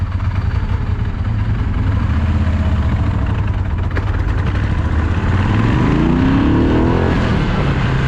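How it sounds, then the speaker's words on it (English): Several Moto Guzzi motorcycles idle together outside a club, a steady low engine rumble held throughout, with a rising pitch sweep near the end as one bike revs. "A few bikes gathered outside the club, getting ready to leave."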